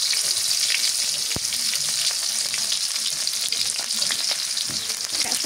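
Onions fry in a hot pan with a steady, close crackling sizzle that runs the whole time, broken by a few sharper pops and stirring clicks, and no voices.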